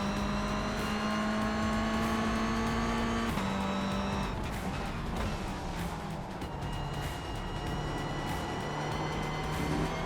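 Ferrari GT3 racing in the iRacing simulator with a Mazda going past, a loud continuous high-revving engine drone with gear changes and a second car's engine blending in close, tires squealing briefly, no talk.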